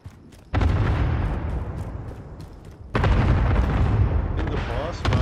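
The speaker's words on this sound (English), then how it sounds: "Allied cluster strike inbound." Cluster strike in Call of Duty: Modern Warfare, two heavy booming waves of rapid overlapping explosions, each hitting suddenly and rumbling on for a couple of seconds, loud and close, with brief voice chatter.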